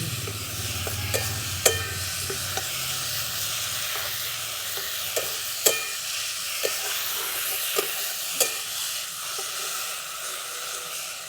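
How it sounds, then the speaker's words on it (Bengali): Chopped potatoes and onion frying in a pan hiss and sizzle steadily while a spoon stirs them, with a few sharp scrapes and taps against the pan. "ঢাকাটা খুলে আমি আরেকবার ভালো করে নেড়ে দিচ্ছি।"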